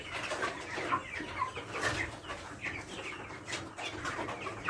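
Broiler chickens in a backyard poultry pen give off a steady chorus of soft clucks and chirps, close and continuous, with a brief louder squawk near the end.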